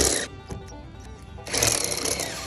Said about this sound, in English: you got to take a step bit and widen this hole